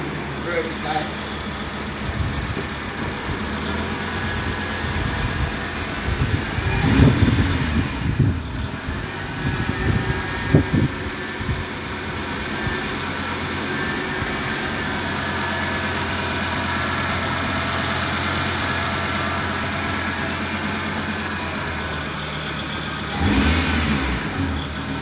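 A Delmar Futurcar engine idles, then revs up in a few loud mid-range bursts before settling back to a steady idle, with another short rev near the end and people talking over it.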